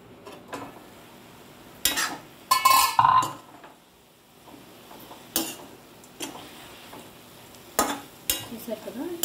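Spinach frying on low heat in a pan, stirred in bursts of scraping and clatter with a soft sizzle between strokes, fairly close and with no talking.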